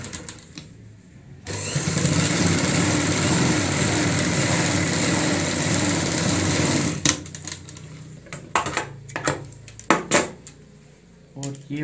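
A sewing machine runs a top-stitch along a ladies' handbag seam with a continuous close whirring drone for several seconds. It then stops, followed by scattered clicks and clatter as the fabric is handled.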